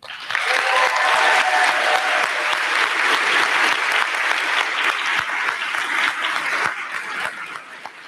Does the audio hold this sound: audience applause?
yes